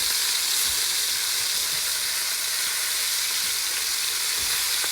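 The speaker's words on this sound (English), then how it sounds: "Your skillet sounds hot" Onions, celery and carrot hit a hot skillet beside browning chicken in a one-pot dish, giving a loud, steady, continuous sizzle with no voices.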